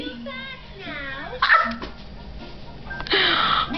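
A puppy gives a few high yips and whimpering barks, indoors at close range, with people talking over and between them.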